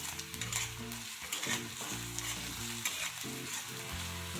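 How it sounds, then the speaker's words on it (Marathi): Crushed garlic sizzling with onions in a hot pan, a steady close frying hiss with occasional stirring scrapes and no talk. "ह्याच्यामध्ये मी हा ठेचून घेतलेला लसूण आहे ना तो टाकत आहे तर आता हे पण परतून घ्यायचं आहे"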